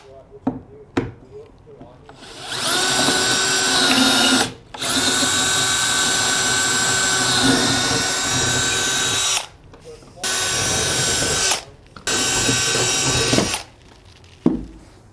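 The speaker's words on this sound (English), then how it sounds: "we'll switch out our bit and then we'll drill those holes." Power drill boring holes for a Brophy swiveling D-ring anchor install, several sustained whining bursts of a few seconds each, separated by short pauses and light handling clicks, close and loud.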